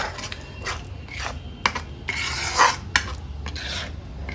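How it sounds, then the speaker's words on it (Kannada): Masala frying in a pan for Kannada-style egg curry as water from rinsing the grinder jar is poured in, giving a steady sizzling rasp with scraping stirs and bursts of louder crackle, close and without talk. "ಮಸಾಲೆ ಈ ಹದದಲ್ಲಿ ಫ್ರೈ ಆಗುವಾಗ ಸ್ವಲ್ಪ ಜಾರ್ ತೊಳೆದ ನೀರನ್ನು ಸೇರಿಸ್ಕೊಳ್ಳೋಣ"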